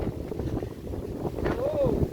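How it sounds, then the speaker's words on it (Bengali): A gentle outdoor breeze under a mango tree, heard as a steady, soft wind rumble buffeting the microphone, with a voice briefly audible near the end. "বাতাস আছে কিন্তু খুব বাতাস হই দেন বাতাস বইছে ঝিরি ঝিরি বাতাস"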